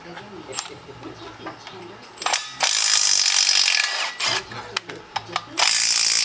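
A cordless impact tool on its high setting loosens bolts on an LS-swapped Monte Carlo SS, firing in short rattling bursts and a few longer runs between quieter pauses, close and loud.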